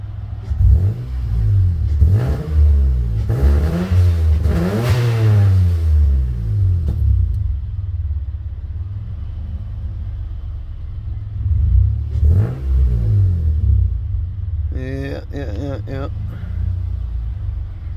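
A cold, not fully tuned car engine idles with a steady low rumble and a few rises in revs, running under continuous talk from a man nearby.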